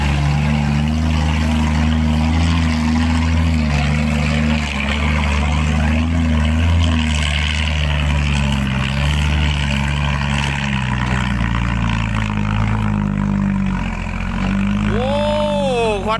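A green Deca dump truck's diesel engine runs loud and steady close by, a deep continuous drone with slight rises in revs and a brief whine near the end.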